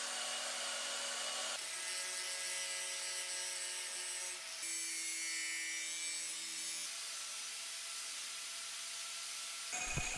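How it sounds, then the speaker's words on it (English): A small bandsaw cuts a piece from leaf spring steel, giving a steady, continuous grinding whine with faint tonal ringing that runs the whole time, close up and with no talking. "just cut that piece out on the little bandsaw"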